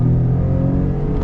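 A lifted, high-mileage Ford Raptor pickup engine revs loud and close as it downshifts, a strong low rumble with no talk.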